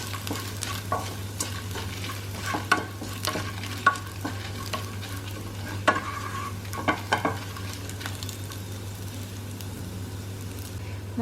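Dry chilies and garlic fry softly in a pan under a steady low hum, broken by scattered stirring scrapes and light clinks of a utensil against the pan.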